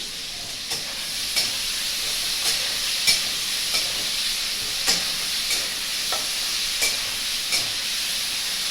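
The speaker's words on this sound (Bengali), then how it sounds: "লঙ্কাটা আমি দিয়ে দিলাম ভাজা ভাজা হয়ে যাবে" Green chilli and bottle gourd fry in a pan alongside prawns, giving a steady sizzling hiss broken by light, regular stirring scrapes and clinks, close up with no talking.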